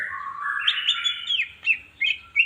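A green leafbird (cucak ijo) gives a run of bright, rising chirps and whistled notes, then three separate short calls, close by and alone.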